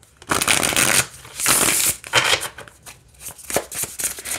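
Close, crisp shuffling of tarot cards in several uneven bursts, papery riffles and taps with short gaps between them.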